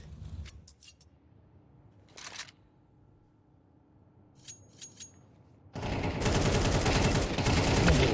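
Counter-Strike gunfire: scattered single shots and short bursts ring out, then a dense, loud, sustained volley of rapid fire erupts and continues to the end.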